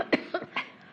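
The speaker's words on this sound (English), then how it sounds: "I know I've been kind of coughing over here." Three short, harsh coughs in quick succession from a person at an evening city council meeting, who is feeling under the weather, each burst sharp and close in a quiet room.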